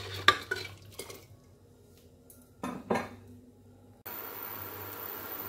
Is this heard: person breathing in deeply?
no